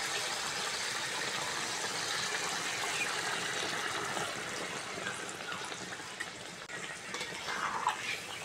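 Water pours steadily into a pan of chicken curry with potatoes, a continuous splashing gush with faint clinks of utensils, moderately quiet and with no talking.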